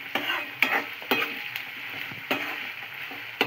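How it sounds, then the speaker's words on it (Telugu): Curry leaves frying for upma in a hot pan, a steady close sizzle and crackle broken by several sharp stirring scrapes of a spoon against the pan, with no one talking. "కరివేపాకు అయితే మంచిగా వేసుకోవాలి."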